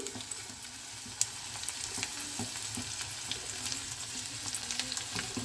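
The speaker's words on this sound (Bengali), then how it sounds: "এবারে রসুন কাঁচা লঙ্কাটা দিয়ে দিচ্ছি।" Crushed garlic and green chilies added to a pan of sautéed onion for a methi saag dish, crackling in a dense, steady sizzle with occasional stirring clicks, close and loud with no talking.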